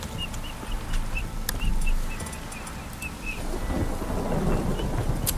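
Rain and thunder in the video game The Witcher 3: Wild Hunt. A loud, steady downpour hisses over a deep rolling thunder rumble, with small bird chirps and scattered drips on top.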